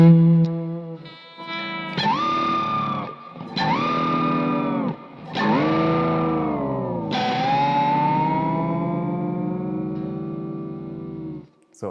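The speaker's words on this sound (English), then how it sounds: "I brush through all the strings. And while I do that, I push down the whammy bar and bring it up" Electric guitar strings brushed all at once through heavy distortion while the whammy bar is pushed down and brought back up, giving a series of loud, swooping chords that dip and rise in pitch, the last one held and slowly sliding back.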